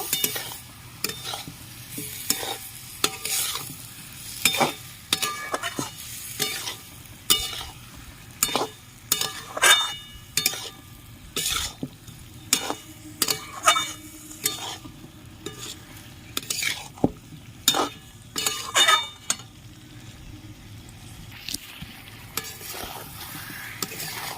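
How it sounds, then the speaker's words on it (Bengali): Soaked soybean chunks and potato sautéing in a pan, with steady sizzling and repeated scraping stir strokes from a spatula at an irregular rhythm, close and fairly loud. "সোয়াবিন আর আলুটা ভালো করে কষিয়ে নেব"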